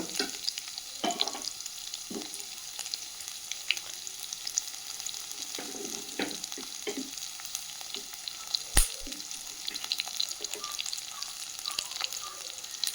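Onion, ginger, garlic and green chilli sizzling and frying in a pan for kadala curry, a steady close crackle with occasional stirring scrapes and clinks throughout.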